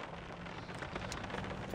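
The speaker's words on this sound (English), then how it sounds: "I don't care about the rain." Steady outdoor rain patters and hisses in a dense, even wash, fairly close and continuous throughout, with no voices.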